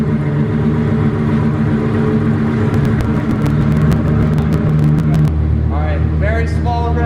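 A 2000hp Lamborghini engine runs with a loud, steady low rumble that changes tone near the end, heard up close with voices in the background.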